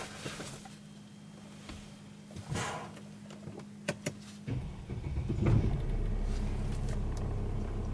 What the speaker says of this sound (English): So now let's start the car and see what happens.